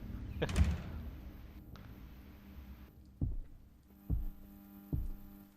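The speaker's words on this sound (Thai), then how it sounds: "มันมีเสียงหัวใจวะเนี่ย" In the horror video game Hollowbody, a heavy heartbeat thumps in low, isolated beats, one strong pulse early and then three spaced thuds, over a quiet ambient hum.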